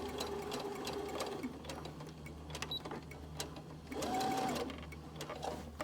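A sewing machine stitches an elastic waistband, running in a couple of short, steady bursts with brief pauses between them. The motor whir and needle clatter are close and clear, with no talking.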